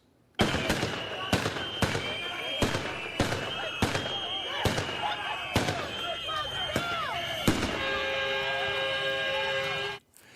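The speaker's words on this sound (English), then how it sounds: "At one point today, officers deployed tear gas and flashbangs." Flashbangs and tear gas launchers going off at a protest in Minneapolis, a series of sharp, loud bangs spaced a second or so apart over crowd noise, with a voice heard in the background.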